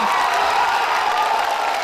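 A large crowd at a political rally cheers and shouts in a steady, continuous roar, moderately loud and unbroken for the whole moment.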